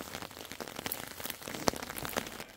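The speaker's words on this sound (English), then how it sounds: "I've been watching the rain build up on this tarp." Rain falling on a camping tarp makes a dense, steady patter with sharper individual drops popping through it, close and fairly loud, with no voices.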